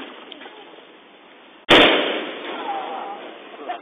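Outdoor consumer firework going off with a sudden sharp bang, followed by a loud crackling, hissing burst that slowly fades over a few seconds; faint background chatter precedes it.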